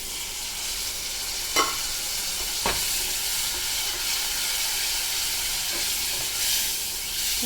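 A little water goes into a pan of soybean curry cooked chicken-curry style, producing a steady, close hiss and sizzle with a few soft clicks of stirring throughout.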